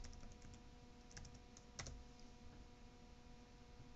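Password being typed on a computer keyboard: a quick run of soft, fairly quiet key clicks at an uneven rhythm, with no talking.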